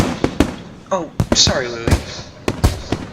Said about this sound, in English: Sparking tracers arc upwards, ready to explode in the floral shapes of fireworks.